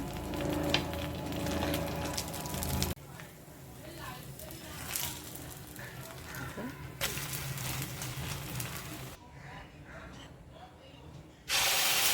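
Ghee sizzling on a makhana dosa in a hot pan, a soft continuous frying hiss with bursts of crackle, changing in loudness across several cuts, with a voice talking over parts of it.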